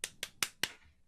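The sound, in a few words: three hand claps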